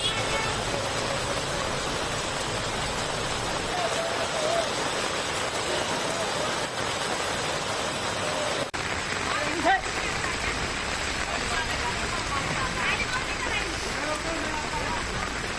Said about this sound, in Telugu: మహారాష్ట్రలో వర్షాలు దంచుకొడుతున్నాయి